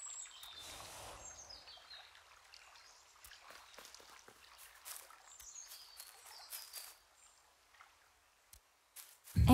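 Birds call faintly in a misty forest in the video game The Last Campfire, with scattered high chirps and tweets over a soft watery hush and a sudden louder thump at the very end.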